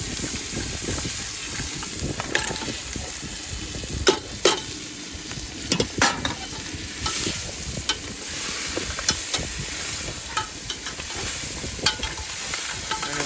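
Vegetables sizzle and crackle in a hot pan, with repeated scraping and clinking of a stirring spoon.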